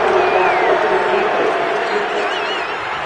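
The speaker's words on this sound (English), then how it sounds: "this crowd does not like that call" Stadium crowd in Madden 22 on PS5 roaring steadily in reaction to a penalty call during a Super Bowl XVI rematch between the 1981 Bengals and 1981 49ers, a loud continuous wash of cheering and babble with a few whistles.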